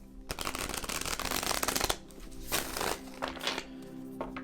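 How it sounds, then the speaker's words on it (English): A tarot deck is shuffled briskly, a dense rapid riffle of papery flicks, followed by a few shorter shuffling bursts close by. "but I'd like to just give them one more shuffle."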